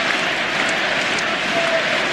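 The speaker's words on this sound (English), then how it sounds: "the crowd right now sensing the end of the series and already beginning right now the chant, the applause" A large arena crowd at Reggie Miller's final NBA playoff game, against Detroit, applauds steadily, a dense wash of clapping and roar at even loudness throughout, with no distinct chant standing out.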